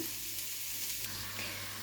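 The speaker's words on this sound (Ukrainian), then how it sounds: "Гарбузик смажиться, спагеті варяться" A steady, soft sizzle of pumpkin frying in a pan, a continuous hiss with faint crackles.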